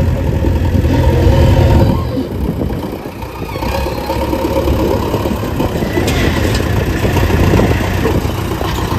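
A tractor engine runs steadily at a worksite while its trolley is loaded with sand, a continuous low rumble close by with a slight dip in loudness partway through.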